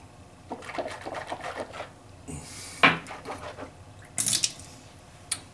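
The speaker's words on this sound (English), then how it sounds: "I'm gonna rinse my mouth out." Water is rinsed and swished in the mouth from a cup while repairing a broken tooth with Dentemp, heard as close, wet sloshing and splashing bursts with small clinks and drips, no talk.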